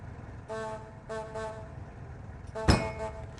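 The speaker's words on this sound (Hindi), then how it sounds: "मैंने कहा था इनसे कि बार बार हॉर्न मत बजाना।" A vehicle horn honks repeatedly outdoors, two tonal blasts followed by a louder, harsher third toot, with a low traffic rumble underneath.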